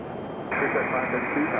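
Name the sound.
American Airlines airplane landing in gusty wind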